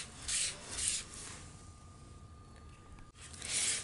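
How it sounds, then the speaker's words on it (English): Embossing powder being rubbed off a crafting work surface: a few soft, brushing swipes come in quick bursts near the start and again at the end, with a quieter scraping stretch between and no talking. "I'm just trying to get some of this embossing powder off my work area."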